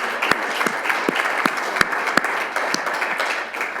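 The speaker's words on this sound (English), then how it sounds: "Let's give Sam a big round of applause" An audience at a corporate speaking showcase in Melbourne claps for a speaker, a moderate wash of applause with several sharp individual claps standing out near the microphone, fading slightly at the end.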